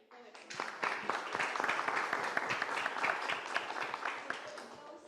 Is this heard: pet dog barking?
no